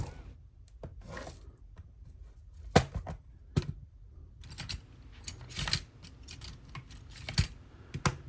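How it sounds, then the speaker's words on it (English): Plastic packaging for FW Converge Zaku figures being cut open, heard as close irregular snips, crinkles and clicks with sharp bursts between quieter handling, no voices. "So let's get these guys cut open."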